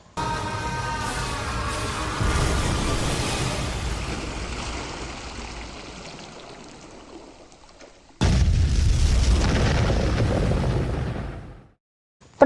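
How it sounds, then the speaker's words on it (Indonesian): A bus explodes after plunging into a ravine: a loud explosion booms and rumbles, fades to a low roar, then a second heavy blast erupts before cutting to silence. "Bis pun meledak."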